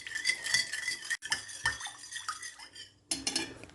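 A utensil stirs pizza dough ingredients such as sugar and salt in a bowl, making close, irregular clinks and scrapes against the sides, with two short pauses.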